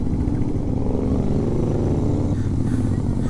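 A Super Meteor motorcycle is ridden carefully on a mountain road, its engine a close, steady low rumble with a constant drone throughout.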